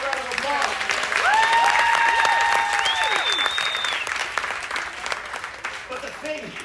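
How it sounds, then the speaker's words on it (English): An audience applauds during a magic act aboard a Disney cruise ship, with sustained clapping that swells and then tapers off. Loud cheering and whooping rise over the clapping, and a voice speaks through it. "Give her a round of applause"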